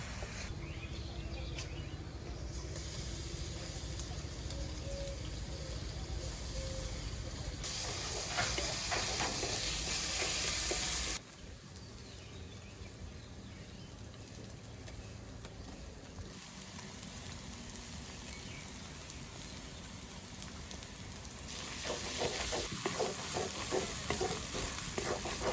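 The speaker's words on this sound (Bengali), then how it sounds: "এবার আদা রসুন লঙ্কা বাটা সব একে দিয়ে দেবো" Ginger, garlic and chili paste sizzles with fried onions in a wok for a meat biryani, a steady close crackle that swells and eases as it is stirred, with no voices.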